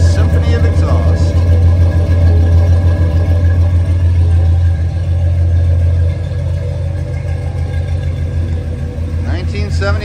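A 1972 Oldsmobile Cutlass Supreme 442 convertible muscle car's exhaust, a loud deep steady rumble at idle, close by, holding constant through the clip with a slight drop in level midway.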